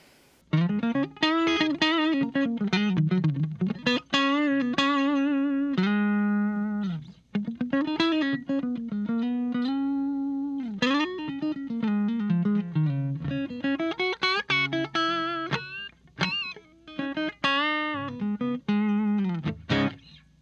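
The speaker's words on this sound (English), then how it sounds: "Now we're on to everybody's favorite position on a Telecaster, the neck pickup." Telecaster electric guitar on its neck pickup, a melodic clean-toned line of single notes and sustained chords played alone with no talking, steady and close.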